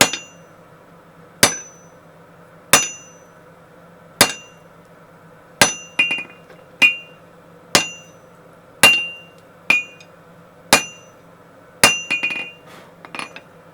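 Regular hammer blows ring out forging hot steel drifts on an anvil, sharp metallic strikes about once a second, some followed by lighter bouncing taps.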